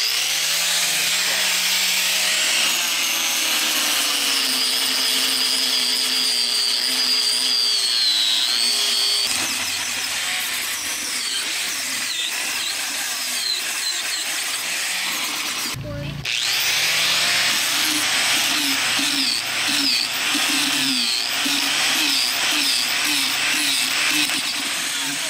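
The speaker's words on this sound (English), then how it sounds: "I'm going to try a flappy paddle type disc, see if that will do" A flap disc on a power grinder sands the last edge of a wooden log flower planter, giving a loud, continuous abrasive whine and grind that dips briefly once before carrying on steadily.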